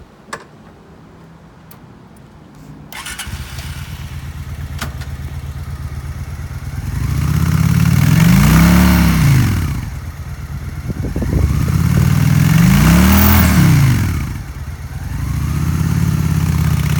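A used 2005 Honda Shadow Spirit 750cc V-twin cruiser starts after a quiet few seconds, then idles with a steady low throb and is revved twice in long swelling surges, close and loud, with no voices.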